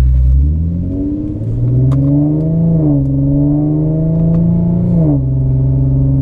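An Infiniti G37/Nissan 370Z makes a full-throttle pull in third gear. The engine note climbs loud and close, then drops off sharply twice as the revs hit the limit and fall back.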